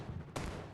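A firecracker bursts in the Indian Bike 3D video game: one sharp, loud bang with a broad crack and a short ringing tail, set against a steady low game-engine rumble.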